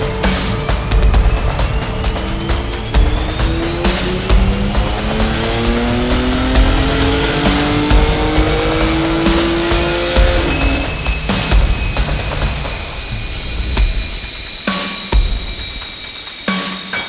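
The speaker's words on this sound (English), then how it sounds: "now we can make the run" A 992 Porsche 911 Turbo S with new downpipes on a dyno, engine pulling hard and loud as revs climb steadily for about ten seconds, then sharp gear-shift breaks and throttle lift with whooshing turbo and cooling-fan roar.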